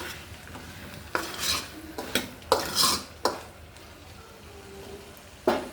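Tomato chutney with chopped tomatoes is stirred in a cooking pot, giving scraping clinks of a spoon against metal in short bursts, followed by the clatter of a lid being set on, close and fairly quiet.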